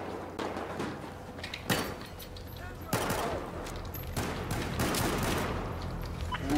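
Pistol gunfire in hardcore-mode Battlefield 4, several sharp shots spread across the stretch with the loudest cracks near the second and third seconds, over a constant busy background of game noise.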